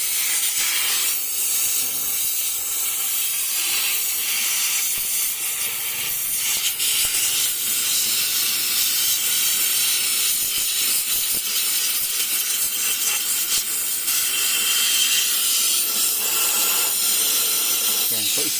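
Steam cleaner blasting hot steam into a Ford Fiesta Mk7's air vents, a steady broadband hiss that runs close and loud through the whole stretch with slight rises and dips.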